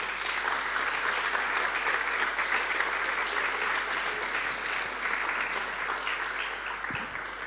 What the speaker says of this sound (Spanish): dale un aplauso a tu Rey